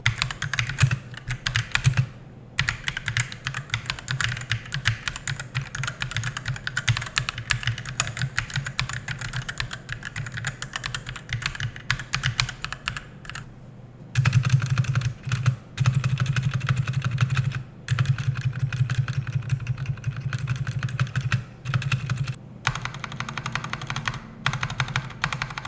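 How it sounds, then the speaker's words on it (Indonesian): A Rexus Ayaka Series computer keyboard is typed on rapidly and steadily, dense clicky keystrokes up close with brief pauses, no voices. "Mending kita sama-sama nyobain untuk kualitas dari feel typing sound dari keyboard ini."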